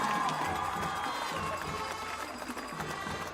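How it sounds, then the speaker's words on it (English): A crowd cheers and applauds steadily at a WPIAL high school football game between Valley and Freeport during a homecoming ceremony, a dense, continuous wash of noise from the stands. "Please, a big round of applause for Emma and Jackson."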